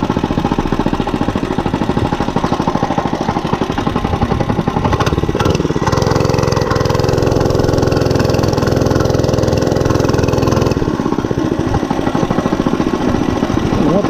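A Monster Moto 105 mini bike engine runs continuously with a rapid, buzzing putter that is loud and close, revving up in the middle before settling back, and no talking.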